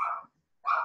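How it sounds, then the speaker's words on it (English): A dog barks twice, loud and close, with a short silent gap between the barks after the doorbell rings. "I apologize for the dog"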